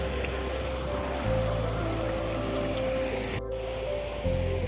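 Clear water from a hill stream in Bogamati, Baksa, Assam rushes and churns in a steady, close wash of broadband noise with a low rumble, with no talk.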